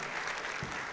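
A live audience at a public NBA talk show in Paris claps steadily, a dense continuous patter of applause filling the room with no voices over it.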